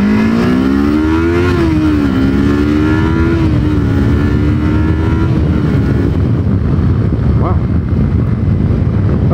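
A Kawasaki Versys 300 motorcycle accelerates up through the gears to fifth, its engine note rising and dipping at each shift under loud, continuous wind buffeting close to the rider.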